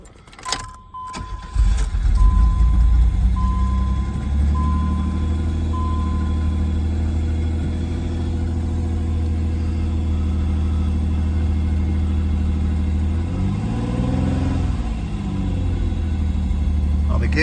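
The 2.8 V6 of a 1988 Pontiac Fiero Formula cranks and catches, then settles into a steady close idle, with a brief rev and fall near the end, while a person talks over it.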